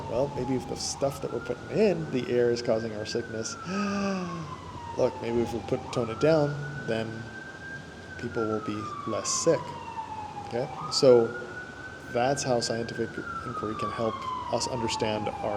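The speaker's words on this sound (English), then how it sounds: "I'm sorry for the sirens back there." Wailing city emergency sirens in the background, rising and falling in repeated sweeps, persisting under a man's continuous speech throughout.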